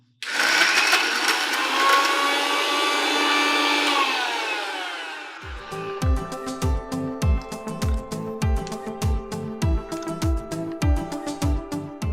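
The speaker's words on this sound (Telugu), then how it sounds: "మిక్సీ వేసేసేయండి" A mixer grinder whirs at high speed for several seconds while grinding ridge gourd chutney without water, then shifts to a rapid, rhythmic chopping churn as it keeps running loudly.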